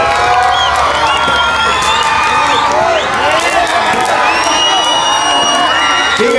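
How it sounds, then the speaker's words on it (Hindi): A loud crowd at a political gathering cheers and applauds, with many voices shouting, whooping and talking over a continuous dense roar that stays full and close throughout. "एक बार ज़ोरदार तालियां भाइयों"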